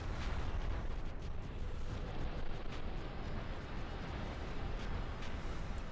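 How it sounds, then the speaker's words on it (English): Rockets firing in the Ratchet & Clank: Size Matters video game, a loud, rumbling, continuous barrage of blasts and booms with dense explosive noise that persists throughout. "How do I fire the rockets?"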